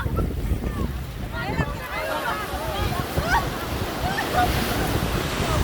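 Heavy surf of strong ocean waves rumbles and crashes continuously at a beach in Baler, Aurora, mixed with wind buffeting the microphone, while people talk and shout over the water.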